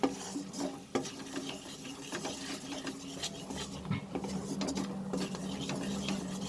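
Spices being stirred in melted butter in a pan for butter chicken, a steady scraping and soft sizzle with occasional clinks of the spoon against the pan, close and continuous throughout, with no talk.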